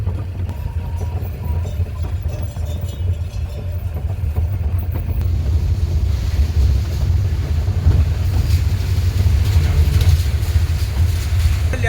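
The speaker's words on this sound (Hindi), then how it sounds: "ये भुजगड़ नदी है।" The Bhujgad river, a mountain river on a trek route, rushes as a loud, steady roar of flowing water that swells slightly toward the end, mixed with some wind buffeting on the microphone and no speech.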